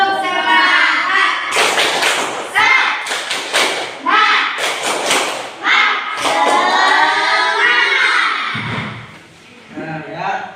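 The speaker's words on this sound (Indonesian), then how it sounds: "Ya, tepuk semangat." A classroom of children performs a rhythmic spirit clap together, bursts of loud group clapping in patterned beats alternating with a teacher's voice, the whole class chanting along between the claps.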